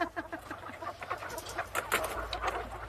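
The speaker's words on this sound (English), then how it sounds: "Never seen such nervous chickens." Nervous farm chickens in a scene from the 1993 horror film Carnosaur cluck and squawk in a busy, overlapping chorus, close and fairly loud, with no talking over them.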